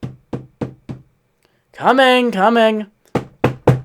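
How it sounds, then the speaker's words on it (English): Four quick knocks on a door, then a shouted voice answering, then three more firm knocks, all close and loud, in an animated Naruto scene. "Naruto hears a knock at the door"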